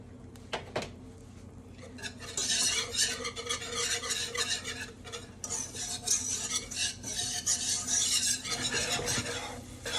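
A utensil stirs flour into a pan for a cheese soufflé, soft scraping and light sizzling that swell after a quiet start and continue steadily, alone without voices.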